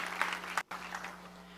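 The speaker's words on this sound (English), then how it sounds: "Everybody, let's give Howard a round of applause." Faint, brief applause from a small audience greeting venture capitalist Howard Morgan, soft scattered clapping with a short cut near the middle, over a low steady hum.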